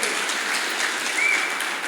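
A church congregation applauds during a service, dense, even clapping that fills the whole short moment at moderate loudness, with no voice over it.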